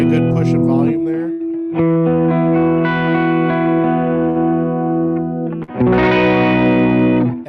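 Electric guitar played through a Walrus Audio ACS1 amp simulator pedal for a worship tone: sustained, driven chords ring out with a brief break, then a fresh strummed chord, loud and close with no talking.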